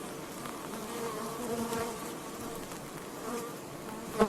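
Bees buzz in a continuous, droning hum close by, with a brief sharper tap near the end.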